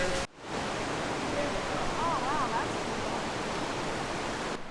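A loud river rushes through a gorge near Garmisch-Partenkirchen, a dense, constant roar close by, with a faint whistle-like tone briefly riding over it.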